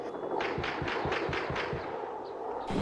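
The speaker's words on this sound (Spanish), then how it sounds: "la lluvia de disparos de los francotiradores a través del cementerio" A rapid burst of about seven sharp sniper gunshots in a steady rhythm across a cemetery, fairly close and loud, followed by a brief pause and another crack.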